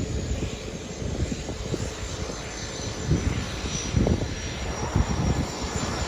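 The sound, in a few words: seaplanes taking off from water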